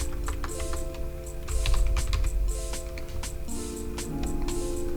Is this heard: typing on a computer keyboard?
yes